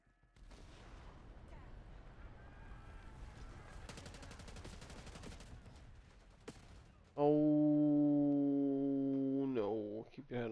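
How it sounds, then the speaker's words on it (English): Rapid automatic gunfire in the Call of Duty Black Ops 6 campaign, a fast burst of shots changing in tone as the player moves under cover, followed by a loud sustained electronic drone. "See how the noise of the gun changes when you're inside this, under this place?"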